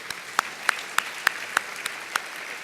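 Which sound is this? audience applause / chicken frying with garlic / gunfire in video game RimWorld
audience applause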